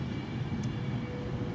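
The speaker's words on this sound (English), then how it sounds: "Now is a debranded 390 unit down to London Euston." Low rumbling drone of a debranded Virgin Trains Class 390 electric unit passing through Wigan station at night, a steady mid-distance roar with a brief high hiss partway through.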